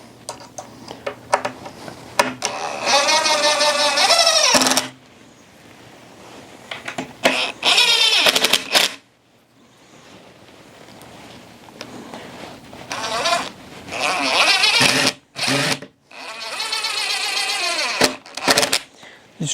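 A power drill drives Torx screws, whirring in several high-pitched bursts of a few seconds each, with pauses and clicks between runs, loud and close.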